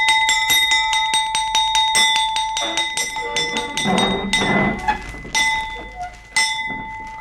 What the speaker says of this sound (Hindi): आधी छुट्टी की घंटी बजा दी